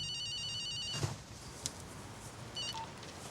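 A telephone rings in two bursts of electronic trilling, the first longer and the second short after a pause, faint against a quiet room with a few soft knocks.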